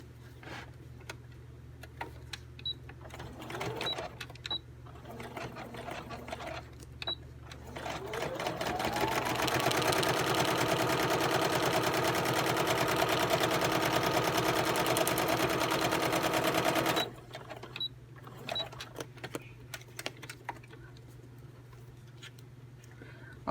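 A sewing machine stitches through folded envelope paper in one steady, close whirring run of about eight seconds, with quieter handling and faint ticks before and after.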